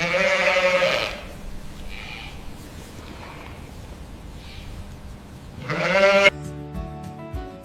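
A Dorset sheep on a farm gives two loud, close bleats, one at the start and one near the end, with quiet background between them.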